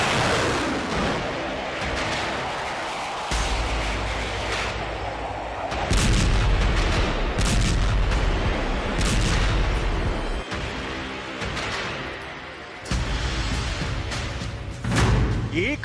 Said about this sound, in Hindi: एक 1000 तोपों से हमला, भाग गए यूक्रेनी सैनिक।